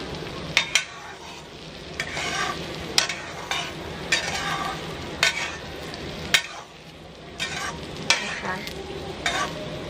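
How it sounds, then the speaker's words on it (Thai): A cha-om omelet frying in hot oil, a loud continuous sizzle close by, punctuated by a series of sharp spatula clicks and scrapes against the pan at irregular intervals. "โอ้โหเวลาทอดนี่หอมมากนะ"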